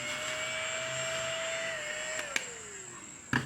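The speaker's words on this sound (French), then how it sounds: "J'ai pris le petit aspirateur, mais moi, évidemment, il est violet." A small purple handheld vacuum cleaner whines steadily with a high motor hum close by, its pitch sagging near the end, followed by a couple of sharp clicks or knocks.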